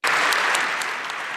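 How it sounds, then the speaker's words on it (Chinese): Canadian members of parliament give a standing ovation, loud dense applause starting abruptly and continuing steadily through a large chamber. "加拿大国会议员全场起立鼓掌，长达三分钟"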